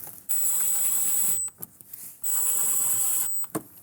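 Trim screws being driven back into the dash of a 1997–2006 Jeep Wrangler TJ, heard as two long, steady, high-pitched electric driver whirs, each over a second long, with short clicks and handling noises between them and no talking.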